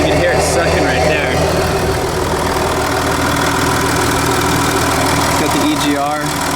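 Ford F-150 with a 3.0-liter V6 Powerstroke diesel idling with the hood open, a steady close-up mechanical clatter and intake hum throughout, with people talking over it.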